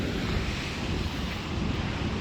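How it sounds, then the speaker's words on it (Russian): Strong winter storm wind roars and buffets the microphone while sea waves surge against a seaside embankment at Arkhipo-Osipovka, a dense, continuous broadband rush with no voices. "Сегодня у нас шторм продолжается, сильный ветер."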